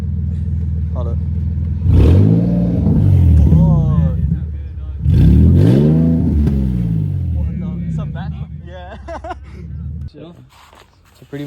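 A Nissan 370Z with a cheap custom eBay/AutoZone exhaust gives two loud revs that rise and fall close by, with a rough idle rumbling between and after them.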